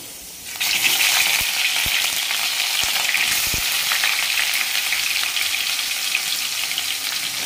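Three large onions go into about six spoons of hot oil in a pan for a goat brain masala. A loud sizzle bursts up and holds as a steady, close crackling fry, with a few soft clicks of stirring.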